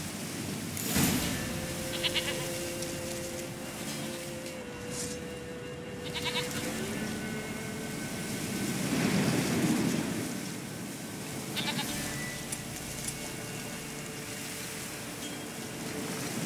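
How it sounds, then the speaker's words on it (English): Goat bleats from Witcher 3 sound a few times over a steady ambient bed that resembles surf, moderately loud, with no talking. "Goat. Here, princess. Hoofed and horned."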